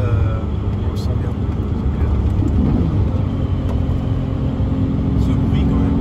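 A 6.2-litre naturally aspirated V12 car engine pulls hard under acceleration with quick gear changes, a steady loud low roar filling the whole stretch, with voices talking over it.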